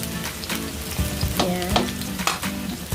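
Onions sauté in hot cooking oil for chicken afritada, giving a loud, close sizzle with frying crackle and repeated stirring scrapes throughout, and no voices.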